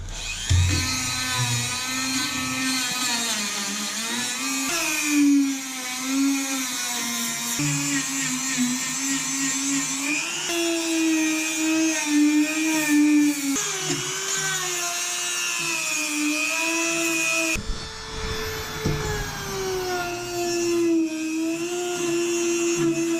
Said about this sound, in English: Tool with the sanding disc on it.